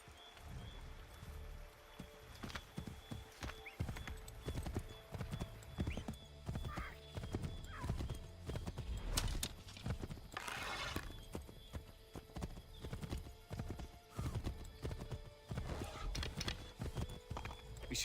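Horse hooves clip-clopping at a steady trot in Assassin's Creed III, with a couple of whinnies and faint rain in the background, fairly quiet and continuous.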